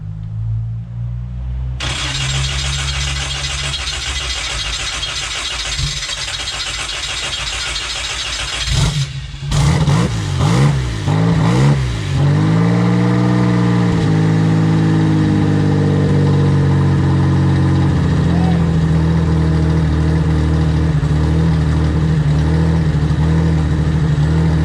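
A truck engine cranks and catches after several seconds, revs unevenly a few times, then settles into a steady, loud, close idle, with no talk over it.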